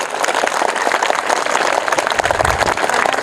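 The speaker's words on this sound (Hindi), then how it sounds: "जोरदार तालियां" Audience applause at a GK quiz competition held for 15 August, a sustained burst of dense clapping from a crowd, steady and fairly loud throughout with no speech.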